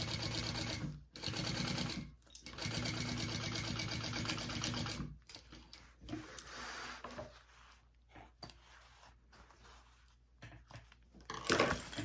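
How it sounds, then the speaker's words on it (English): A sewing machine stitches a tote bag seam in loud, rapid bursts, with short pauses between runs. Quieter handling sounds and shuffling follow near the end. "We're gonna sew that at our full seam allowance, and then we will do some top stitching."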